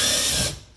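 An impact wrench drives T40 bolts on a Polaris RZR XP Turbo S, giving a short, loud, buzzy burst that cuts off abruptly after half a second.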